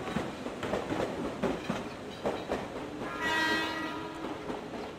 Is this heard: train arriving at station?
yes